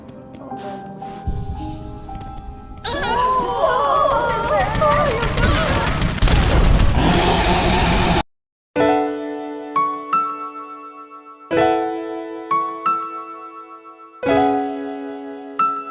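In Silksong, the Skull Tyrant tears through the town: a long stretch of loud crashing, rumbling destruction and debris noise, followed after a brief silence by rhythmic, ringing musical chord stabs with sharp attacks.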